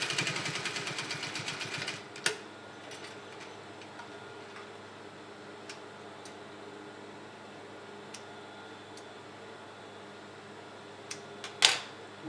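A sewing machine stitches fabric in a fast rapid burst at the start, then quiet with scattered clicks and a brief sharp noise near the end.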